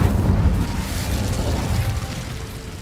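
Incendio fire spell cast in the Hogwarts Legacy video game, a loud booming burst of flame that rumbles on steadily for a few seconds, with no talking over it.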